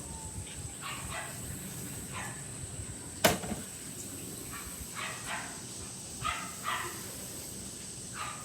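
Several faint barks from dogs somewhere off at a distance, scattered over a quiet background, with one sharp knock partway through.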